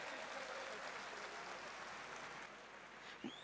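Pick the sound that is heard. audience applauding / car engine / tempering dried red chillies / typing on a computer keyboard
audience applauding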